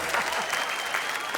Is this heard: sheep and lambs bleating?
no